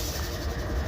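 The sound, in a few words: freight train locomotive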